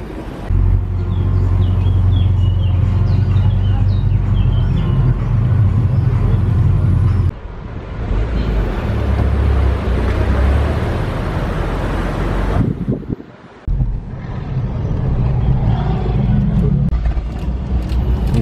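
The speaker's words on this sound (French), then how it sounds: "Oh, la belle Bentley là qui arrive, la nouvelle Continental GT Cabriolet." A new Bentley Continental GT Cabriolet drives past on a Monaco street during a supercar event, with a steady engine drone that rises and falls as it nears, mixed with loud traffic and wind rumble.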